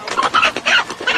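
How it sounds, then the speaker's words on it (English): A rooster clucks in a run of loud, close, broken calls across about a second, with no talk. "That rooster."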